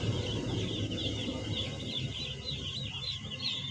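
Young chicks in a cardboard brooder, pecking steadily at feed, give a continuous chorus of high peeping over soft scratchy tapping, fairly close and steady throughout.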